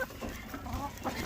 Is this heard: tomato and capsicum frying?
no